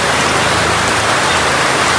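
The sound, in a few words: heavy rain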